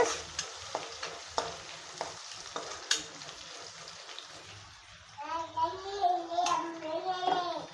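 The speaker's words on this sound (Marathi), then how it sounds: "मी याच्यामध्ये भरपूर लसण घालणार आहे मला थोडंसं असं परतवून घ्या" Garlic sautés in a pan, with sharp spoon taps and scrapes of stirring over a faint sizzle that swells into a louder, busier fry in the last few seconds.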